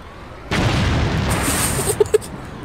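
Grenades explode in the Dead Island video game, opening with a loud burst that settles into a sustained rumbling roar, then two sharp pops follow near the end.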